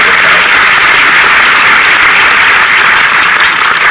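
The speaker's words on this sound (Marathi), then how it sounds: "पुनश्च एकदा टाळ्या वाजवून आपण सगळ्यांनी तुमचं अभिनंदन" An audience at an award ceremony claps in a dense, sustained wash of applause, loud and close, with no pauses for the whole stretch.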